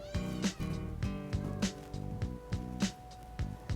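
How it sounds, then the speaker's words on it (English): Domestic cats at an animal shelter, a calico short hair among them, meowing several times in short repeated calls over steady background music. "She is a very sweet kitty with the loudest purring motor ever."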